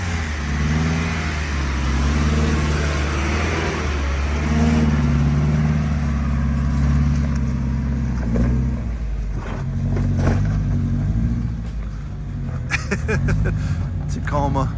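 A two-wheel-drive Toyota Tacoma pickup with a posi rear end drives off-road, its engine droning steadily and swelling as it climbs, with clunks and rattles from the rough trail and occasional talk over the motor.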